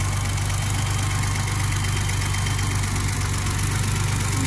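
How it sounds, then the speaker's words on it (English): 1985 BMW 635CSi with the M30 straight-six engine idling warm, a steady, even low thrum close by with a constant rhythmic pulse and no voices. "It's the legendary M30 engine,"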